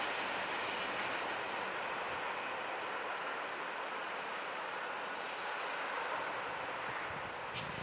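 A CSX freight train with boxcars rolls past on the Indianapolis Line at Fortville, a steady broad rushing rumble of wheels and cars that holds evenly throughout, fairly distant and with no voices.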